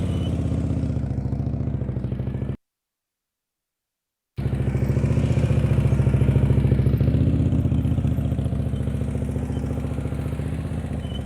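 A motorcycle engine throttles steadily during slow-speed riding practice, a loud, continuous low-pitched drone that swells slightly with throttle, broken by about two seconds of silence early on.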